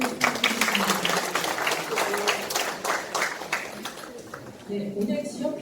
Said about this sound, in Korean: 청성면 이상배 위원님께 큰 박수 한번 부탁드리겠습니다